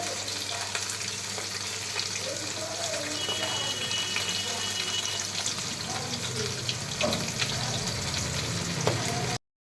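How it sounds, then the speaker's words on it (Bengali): Fish heads frying in oil, a continuous crackling sizzle that stays fairly loud throughout, with faint voices in the background. "মাছের মাথাগুলো ভাজা হচ্ছে"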